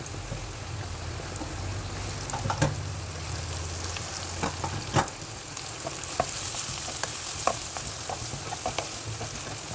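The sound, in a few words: sautéing garlic and onion in sunflower oil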